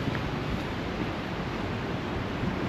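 Strong wind blowing outdoors in New Zealand, a steady, loud broadband roar with no breaks, like gusts buffeting the microphone throughout.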